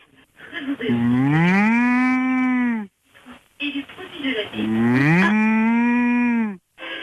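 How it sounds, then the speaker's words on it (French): A cow moos twice, long, loud and drawn out with a pitch that rises and then falls, played over a phone line during a French radio night show, with a short pause between the calls. "Vous avez entendu, c'était une vache malade."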